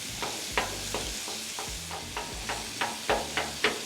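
Sausage being chopped with a mix-and-chop tool on a Pit Boss griddle, a rhythmic series of sharp scraping taps over a steady low sizzle, about a dozen strokes close by.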